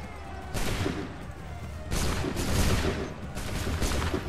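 Musket volleys from a line of soldiers in Assassin's Creed III, three loud crackling rounds of massed gunfire in succession, each bursting out and then rolling off.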